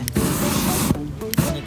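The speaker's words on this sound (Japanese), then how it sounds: "クリアスプレーね、クリアスプレーね。" Clear spray paint hisses from an aerosol can onto a paint-stained coin in a series of bursts, one long spray followed by two shorter ones with brief gaps between.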